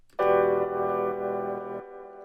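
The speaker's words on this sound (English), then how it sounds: "this other grand piano section here, it sounds like this" A sampled grand piano chord from Ableton's native library, sounding once with a full, bright sustain that rings for under two seconds before cutting off abruptly, alone and close.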